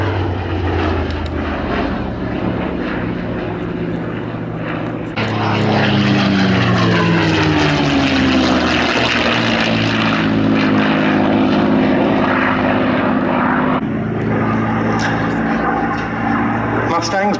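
P-51 Mustang propeller fighter flying at an air show at Duxford, its loud droning engine swelling as it passes close, with a commentator talking over it.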